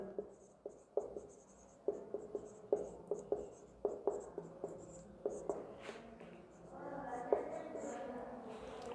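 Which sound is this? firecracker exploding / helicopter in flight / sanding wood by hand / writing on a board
writing on a board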